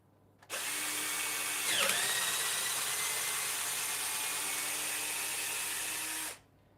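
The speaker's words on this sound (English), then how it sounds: "that is round one of drilling done" A power drill bores steadily into a roller skate boot, a loud continuous whine lasting several seconds with a brief bump in pitch early on, starting and stopping abruptly.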